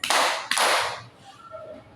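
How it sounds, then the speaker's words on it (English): Two sharp claps ring out in a classroom as a group claps along to a children's action song, about half a second apart, followed by a quieter moment with faint background voices. "If you're happy and you know it, clap your hands."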